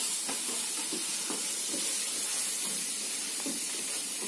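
Prawns fry in a pan with ginger-garlic paste and masala, giving a steady, close sizzling hiss. Soft crackles and pops rise above it now and then, and nobody speaks.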